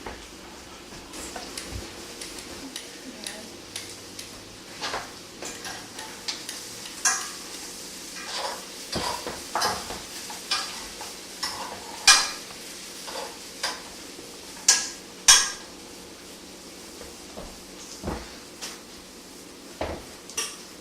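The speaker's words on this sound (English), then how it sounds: "I'm gonna let those brown a little more, and then I'll add the zucchini and the basil." Vegetables browning in a frying pan make a soft, steady sizzle beneath the clatter of utensils stirring and scraping against cookware, with scattered sharp clinks and taps throughout.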